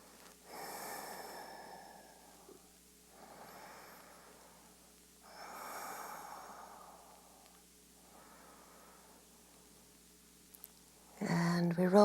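Slow, deep breathing during a yoga pose: four long, close breath cycles alternate between airy inhales and exhales with quiet pauses between, followed by a brief burst of movement at the end.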